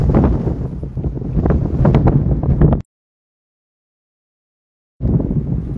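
Strong snowstorm wind in Alberta, Canada roars and buffets the microphone in a loud, steady rush, cuts to silence for about two seconds, then returns just as hard.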